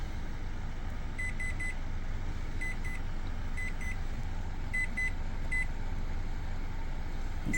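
A microwave oven installed inside a Kia Soul car hums steadily and loudly with no pauses, while groups of short, high electronic beeps repeat several times over the drone.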